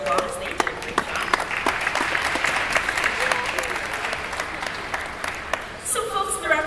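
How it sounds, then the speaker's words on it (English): A crowd at a dolphin show applauds the trainers, sustained clapping with sharp individual claps standing out over a broad crowd murmur, fading near the end as other sounds and faint voices come in. "Let's give the trainers a round of applause."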